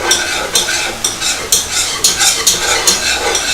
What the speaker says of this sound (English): I'm just gonna add a little flour to it now and move it along.